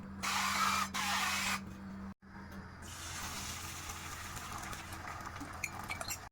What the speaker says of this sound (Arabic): ننزل برشه الزيت بتاعتنا على الطاسه